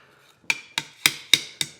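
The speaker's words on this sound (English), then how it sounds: "as you can tell, I have to work that hammer" A blacksmith's hammer strikes hot iron on an anvil while forging a hinge from quarter-inch stock: five evenly spaced, sharp, ringing metallic blows, close and loud, with no talking.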